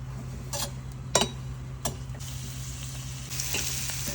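Masala-coated paneer pieces fry in oil for a dhaba-style curry, giving a steady soft sizzle with a few sharp clicks and spatters near the start and a brighter hiss toward the end.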